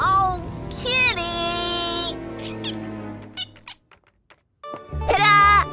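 A kitten meows several times in a kids' doll cartoon, the cries rising and falling over light music before breaking off into a short pause and a final louder meow.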